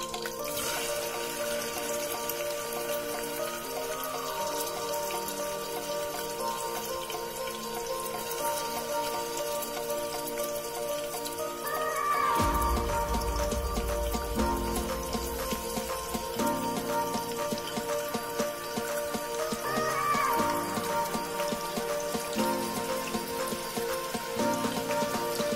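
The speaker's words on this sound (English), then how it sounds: "Now I'm going to add the chopped onions." Chopped onions saute in cooking oil with fennel seeds and ginger garlic paste in one pot for green peas pulao, making a soft crackling sizzle that thickens after a dull thud of food hitting the pan.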